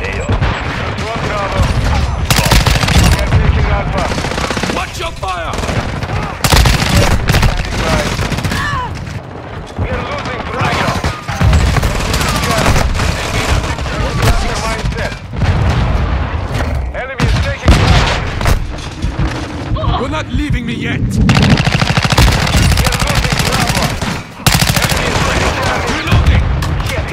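Dense, loud gunfire and automatic weapon bursts from the video game Call of Duty: Modern Warfare II, with booming blasts throughout, rolling continuously as voices shout over the combat.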